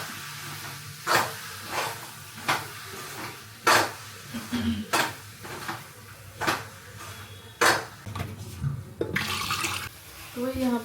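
Running tap water pours over dirty dishes coated with dough from kneading flour, in bursts of splashing and hiss with clinks of utensils between, close by in a home kitchen.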